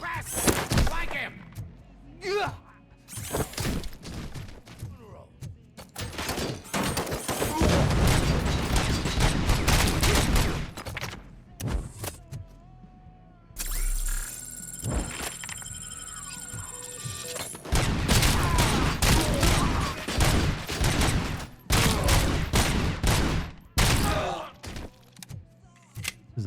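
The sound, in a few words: shotgun gunfire in video game Robocop: Rogue City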